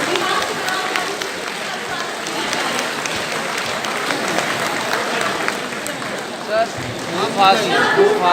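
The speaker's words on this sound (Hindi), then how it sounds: "तालियों की गूंज के साथ" Enthusiastic applause fills a hall at a teacher training event, a continuous loud roar of many hands that swells slightly toward the end.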